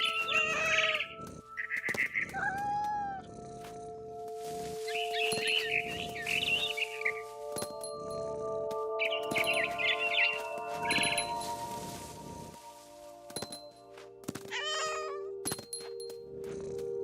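A cat in the video game What Remains of Edith Finch meows and yowls repeatedly at close range. Bird chirps and tweets are mixed among the cries over a faint game ambience.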